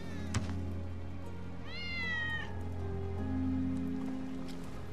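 Wedge's cat in Final Fantasy VII Remake gives a single clear rising-then-falling meow midway, set against a steady low ambient hum and faint drizzle-like background.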